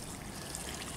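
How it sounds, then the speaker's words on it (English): Water being poured out onto the ground while a new tree is planted to replace a dead ash, a brief steady trickling splash heard close and alone. "Just pour it out."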